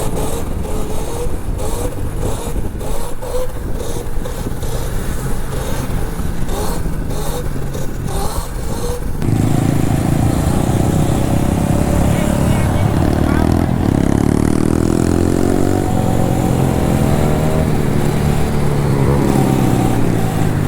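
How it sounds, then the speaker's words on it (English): Loud pit bike dirt bike engine revving up close, a buzzy high-pitched whine that rises and falls with throttle blips, joined partway through by heavier engine rumble and scraping under excited talk. "that pit bike is so loud"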